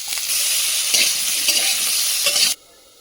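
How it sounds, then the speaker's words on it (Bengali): Broccoli and potatoes fry in oil with a little salt, giving a loud, steady hiss of sizzling as they are stirred, then cutting off abruptly near the end. "সামান্য পরিমাণ লবণ দিয়ে কিন্তু এটা ভালো করে ভেজে নেব"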